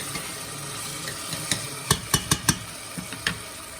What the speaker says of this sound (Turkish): Salçaların kokusu çıkıncaya kadar da bunları şöyle bir çeviriyorum.